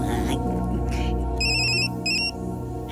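A telephone ringtone plays loudly over a dense film soundtrack with music, sounding as a repeated electronic tone in two bursts partway through.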